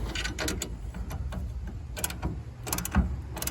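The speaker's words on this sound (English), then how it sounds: "Just using a big C-clamp to pull it all tight" A big C-clamp being cranked tight on a truck bed rack bracket for a kayak rack, giving a run of close mechanical clicks and ratcheting creaks with one firmer knock near the end.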